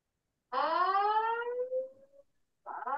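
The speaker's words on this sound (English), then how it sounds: "Got a fire alarm going off in here." An office building fire alarm sounds in two bursts: a long sweeping electronic tone that glides upward and fades, then a second burst starting after a short silence, with no voices.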